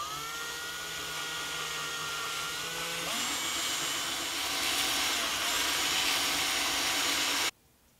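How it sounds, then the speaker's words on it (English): A steady, loud mechanical whir of a power sander grinding on a rough piece of metal for a thickness caliper, shifting pitch midway and running continuously before cutting off abruptly. "let's try sanding before we get to more radical measures"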